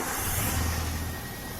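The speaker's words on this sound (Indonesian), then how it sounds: "Kita posisikan mobil pada posisi on, kemudian kita start." A car engine cranked and started with an EMS scanner connected, giving a dense, steady broadband roar and low rumble throughout, loud and close, with no pause or voices over it.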